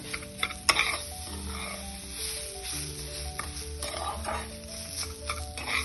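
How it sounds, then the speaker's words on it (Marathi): Semolina and fresh grated coconut are roasted together in a pan, with a close, continuous dry sizzle and scraping strokes of a spoon stirring in a steady rhythm, punctuated by a few louder clinks against the pan. "दोन्ही छान आता कोरडं होईपर्यंत आपण परतून घेणार आहोत।"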